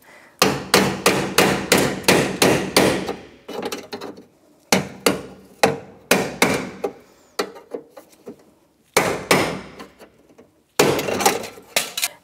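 Repeated hammer blows on a chisel knocking out rivets from a 1992-1996 Ford F-150 door, fast clusters of close, loud strikes broken by short pauses, continuing for about twelve seconds without speech.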